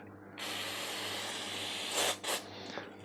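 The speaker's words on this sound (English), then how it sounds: "As you can stick them in there, just remember it'll spray back at you." Cleaner sprays in a steady close hiss through the holes of a carburetor during a service, with a couple of louder bursts near the end.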